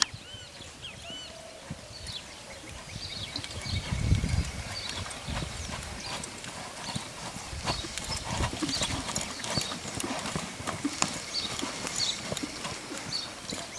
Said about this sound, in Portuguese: Cavalo muito bonito.